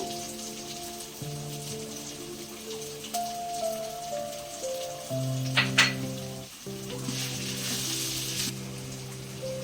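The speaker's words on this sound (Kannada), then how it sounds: "ಈಗ ಇದರಲ್ಲಿ ನಾನು ಫಸ್ಟೇ ಪುಡಿ ಮಾಡಿ ಇಟ್ಕೊಂಡಿರೋ ಸಾಸಿವೆ ಮತ್ತು ಮೆಂತ್ಯನ ಇವಾಗ ಇದರಲ್ಲಿ ಹಾಕೊಂಡ್ಬಿಡೋಣ." Ground mustard and fenugreek powder go into a hot pan for homemade ginger pickle, with a steady oil sizzle running throughout, a brief brighter crackle midway, and no talking.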